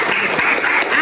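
Students in an Indonesian eleventh-grade civics classroom clap their hands together in a short, dense burst of applause that stays loud and steady, then cuts off abruptly.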